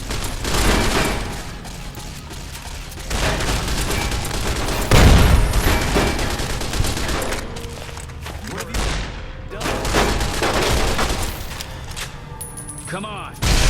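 Frag grenade blasts and gunfire from a Fallout: New Vegas battle, a dense, loud stream of shots with heavy booms including one big thump near the middle, sustained throughout.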